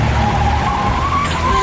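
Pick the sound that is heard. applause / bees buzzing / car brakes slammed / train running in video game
car brakes slammed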